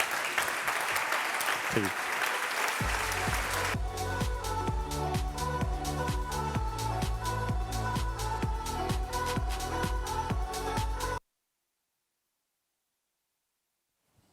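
Loud applause from a conference audience welcoming a speaker onto the stage at an entrepreneurship event, with a host speaking over the start and bright stage music swelling underneath before everything cuts to silence.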